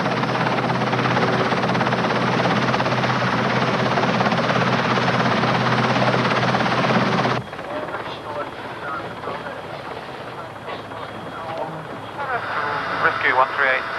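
An RAF rescue helicopter hovers and lifts off at an offshore oil platform, its loud, steady rotor and turbine roar filling the first half before cutting to quieter background noise with faint radio-style voices.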